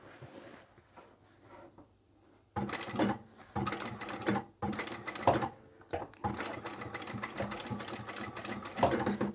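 A sewing machine stitches a second row along the hem of an easy market produce apron, running in loud steady bursts with brief pauses between, starting after a quiet opening.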